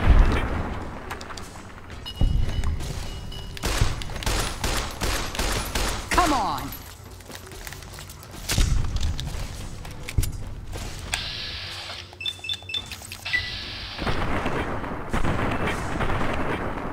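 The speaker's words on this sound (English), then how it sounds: "I'd like to try out the 10mm pistol" Rapid pistol shots from a 10mm pistol in Fallout: New Vegas, fired in bursts of sharp cracks alongside mechanical clicks and creaks, loud and close, with game ambience between volleys.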